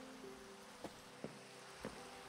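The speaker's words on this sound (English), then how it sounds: "the rain has been non-stop" Rain falling steadily in Minecraft Hardcore, a faint even hiss with a few soft taps and a quiet tone running beneath.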